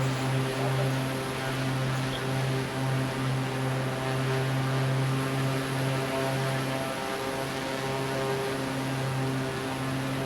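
A Cessna light aircraft's propeller engine drones steadily in flight, a loud, even cabin roar with a low harmonic hum that holds throughout without pause.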